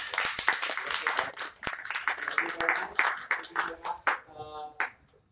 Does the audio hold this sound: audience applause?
yes